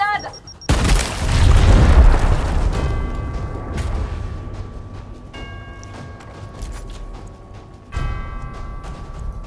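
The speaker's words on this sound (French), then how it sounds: "J'envoie une grenade." A grenade blows up in the video game Gears Tactics, a sudden loud boom with a long rumbling tail that fades slowly, followed by faint game tones and a second thud, with a voice talking over it.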